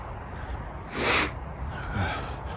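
A single short, breathy sniff at close range in cold weather outdoors in a cemetery, with a softer intake of breath following a moment later against a quiet background.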